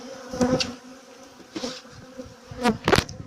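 Bees buzzing close by in irregular bursts, individual insects droning past loudly and fading, with a quieter hum between passes.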